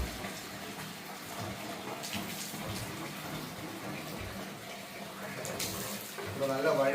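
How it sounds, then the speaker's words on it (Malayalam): Water from a motor-driven pump gushes steadily into a pond, a continuous splashing rush close by that swells slightly near the end, with faint background voices. "നമ്മളിവിടെ വെള്ളം നിറയ്ക്കാൻ തുടങ്ങിയിട്ടുണ്ട്"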